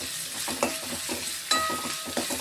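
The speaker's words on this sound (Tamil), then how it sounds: "இது நல்லா வதங்க அடுப்பை கொஞ்சம் குறைச்சி வச்சுக்கிட்டே தான் வதக்கணும்" Moringa leaves sauté in a pan over a low flame for a soup, a gentle close sizzle with light scraping stirs and a few sharper clinks of the spoon against the pan.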